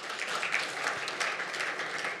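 Audience applause at a side-event meeting on Zimbabwe's debt arrears, a steady wash of many hands clapping at moderate level throughout, fairly distant and even with no voices on top.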